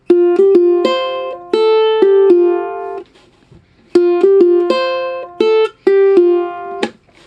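Ukulele picking a riff, a short melodic phrase of plucked single notes played twice with a pause between, close and clear with no voices.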